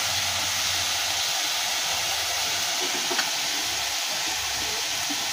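Boiled banana flower fries in a pan for a vegetarian curry, giving a steady, close hiss of sizzling oil with faint stirring scrapes throughout and one small clink near the middle.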